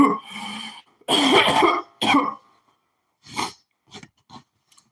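A person coughs in a few harsh, close bursts, then trails off into fainter hacks and throat sounds separated by short silences.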